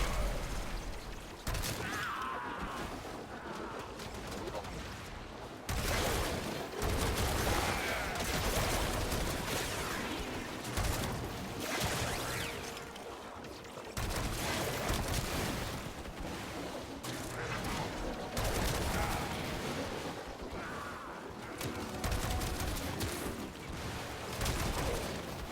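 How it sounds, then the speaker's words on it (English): Rocket launcher fire in Duke Nukem 3D, a dense run of repeated loud blasts and mechanical clanks with booming explosions spread across the whole stretch, no voices. "That's a rocket launcher."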